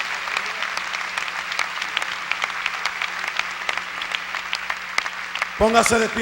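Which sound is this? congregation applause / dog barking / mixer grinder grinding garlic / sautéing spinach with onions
congregation applause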